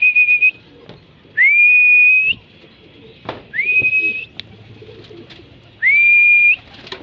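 Pigeons in a loft before feeding give clear, loud, whistle-like calls, four sustained tones spaced a few seconds apart with soft rustling between them.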